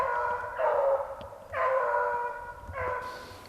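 Hunting dogs bay in three drawn-out, mid-pitched cries while chasing a rabbit through snowy Upper Peninsula country, heard at a moderate distance with no talk.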